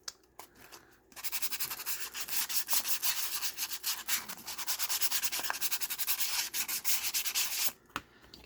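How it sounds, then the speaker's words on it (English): Glossy paper surface being sanded by hand, a close, continuous rapid scratchy rubbing for several seconds that starts abruptly and stops near the end. "if you sand it a little bit, it gives it a little bit more tooth and a little bit more grab"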